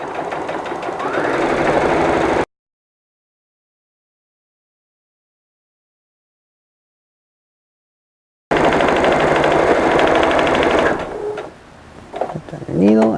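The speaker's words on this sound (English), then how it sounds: "go over to the sewing machine and sew a 5/8 inch seam all around the edge of the quilt" A sewing machine stitching a 5/8 inch seam around the edge of a rag quilt, giving a steady, fast mechanical whir and clatter. It runs briefly, stops in a long silence, then starts again, with some handling noise near the end.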